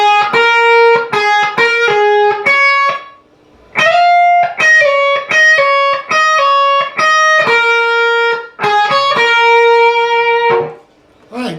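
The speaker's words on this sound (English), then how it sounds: "That's the first sax solo." Distorted electric guitar with effects plays the first saxophone solo line from a song, a loud run of picked and sustained single notes with a brief pause midway.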